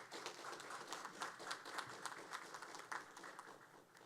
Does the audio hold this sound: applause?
yes